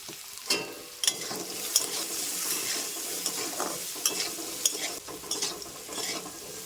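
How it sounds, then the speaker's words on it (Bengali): Potatoes, salted and dusted with turmeric, fry in mustard oil in a pan. A steady, close sizzle runs under repeated spatula scrapes and light metallic knocks, with no voices. "আমার আলুগুলো ভাজা হয়ে গিয়েছে লাল লাল করে এবার তুলে নিচ্ছি"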